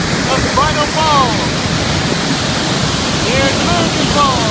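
Roar of Niagara's Horseshoe Falls, a steady, loud broadband rush of falling water filling the whole clip, with a few faint voices drifting over it.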